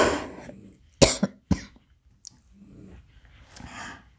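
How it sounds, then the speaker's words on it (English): A woman coughs in a few sharp, separate bursts from a dry throat, close to the mic, with breathing between the coughs in an otherwise quiet room. "I think I'm going to start coughing soon."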